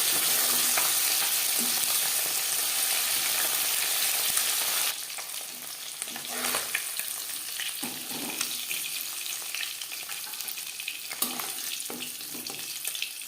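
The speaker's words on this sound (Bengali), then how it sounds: "মাছ ভাজা হয়ে গেছে" Tangra fish frying in oil in a pan, a loud continuous sizzle that drops abruptly to a quieter crackle with occasional spits and clinks of utensils, heard close with no talking.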